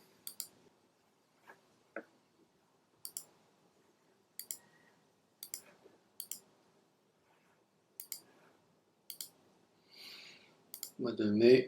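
A computer mouse gives a string of crisp, close clicks, single and in quick pairs, with quiet gaps between them, followed by a brief burst of talking at the end.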